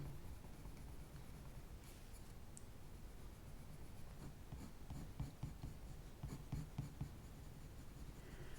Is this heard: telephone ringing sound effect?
no